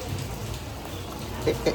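Steady rain falls in a constant hiss, with a couple of brief voice sounds near the end.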